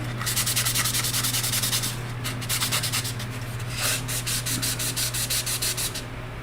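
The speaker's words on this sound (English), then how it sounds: "after sanding this seam down, would just about make it disappear" Steady rhythmic sanding on a plastic model kit seam, a rapid back-and-forth scratching rub that pauses briefly and resumes, close and continuous over a low hum.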